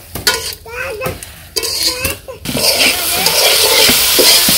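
Vegetables sauté in a pan while a utensil stirs, scraping and clinking loudly up close, and the sizzle swells into a steady hiss in the second half after a stretch where a voice and other talk are heard.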